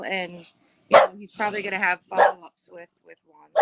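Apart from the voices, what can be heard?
pet dog barking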